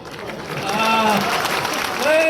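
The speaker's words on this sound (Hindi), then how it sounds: "अब तक जितनी ताली ना बजी उतनी बजाना।" An audience at a comedy poetry show in Prayagraj claps in a broad, steady wash that builds in loudness, while voices call out and speak over it.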